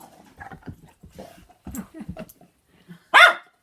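A guide dog whimpers and makes soft yips close by, ending in one sharp loud bark, with quiet gaps between the sounds.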